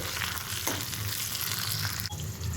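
Raisins and cashew nuts fry in ghee for sabudana payasam, giving a steady, close crackling sizzle with occasional stirring noises.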